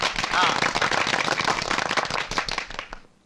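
Audience applause at a Malayalam speech event for a studio opening, dense and steady rapid clapping from a crowd, loud throughout, then fading out at the end.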